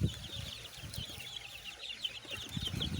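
Chicks in a newly built outdoor enclosure cheep in a steady stream of high, rapid peeps, with soft shuffling and low bumps of movement close by.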